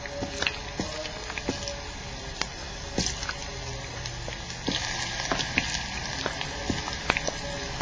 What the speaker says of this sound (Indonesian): kita cemplungkan ya goreng untuk kentang kita